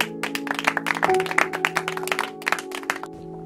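An audience at a talk for a nurse gives a burst of dense, lively clapping that thins out toward the end.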